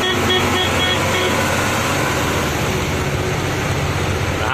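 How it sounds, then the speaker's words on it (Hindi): A friend's car following close behind on a highway, heard as a steady, loud broadband road and engine roar with wind rush that stays constant and unbroken throughout. "ये हमारे फ्रेंड की गाड़ी, देखो पीछे आ रही है।"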